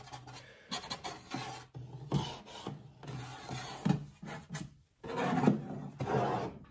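Wet-sanding a rough automotive light lens with 900 grit sandpaper, with irregular close rubbing strokes that come in bursts separated by brief pauses.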